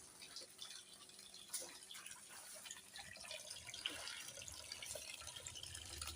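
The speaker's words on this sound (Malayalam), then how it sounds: "ഇവിടുത്തെ ഷീറ്റൊക്കെ ഒന്നിങ്ങനെ വെള്ളം വെച്ച് ജസ്റ്റ് ഒന്ന് തെറിപ്പിച്ച് കളയാം, മണ്ണൊക്കെ ഒന്ന് പോകാൻ വേണ്ടിയിട്ടാണ്" Water splashed across a pond liner sheet to rinse off soil, heard as faint, continuous spraying and dripping with light splatters that grow slightly busier toward the end.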